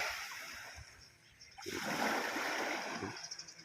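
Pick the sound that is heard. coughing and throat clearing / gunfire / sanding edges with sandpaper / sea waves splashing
sea waves splashing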